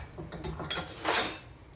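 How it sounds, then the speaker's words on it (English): A metal spoon clinks and scrapes against dishes and pans while orange chicken is cooked in a home kitchen, a few light taps followed by a brighter, louder clatter, close up with no talking. "let me get a big old spoon"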